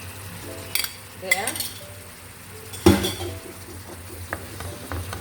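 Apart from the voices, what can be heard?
beef Vienna sausages frying and stirred in pan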